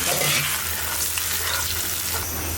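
Singhi fish curry with onions and chili powder frying in a pan, a dense, loud, continuous sizzle heard close up with no voices.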